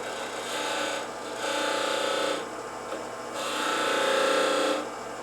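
Skew chisel cutting a wooden finial spinning on a lathe, a close scraping, rasping hiss in three sustained passes separated by brief easings, with no talking.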